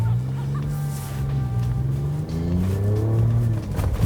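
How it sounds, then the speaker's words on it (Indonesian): A Ford Ranger Raptor V6 creeps slowly into a mud puddle, its engine a low steady drone that rises gently in pitch as it pushes through, with faint wet sloshing over the rumble. "Kita coba masukin kubangannya pelan-pelan."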